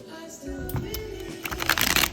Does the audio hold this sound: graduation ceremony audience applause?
no